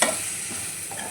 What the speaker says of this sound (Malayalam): പിന്നെ തക്കാളി വാട്ടാൻ വെച്ചു.